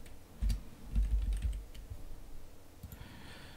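Quick clicks from a computer keyboard being typed on, an uneven burst of keystrokes up close with soft thuds underneath and no talking.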